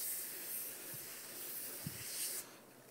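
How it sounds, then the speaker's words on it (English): Motorex helmet care spray is misted into a helmet as a steady, close aerosol hiss lasting a couple of seconds, with faint handling thumps, before it cuts off. "give it a quick spray"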